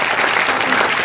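An audience at a Haj House opening in Aurangabad claps steadily, a loud dense burst of applause lasting about a second.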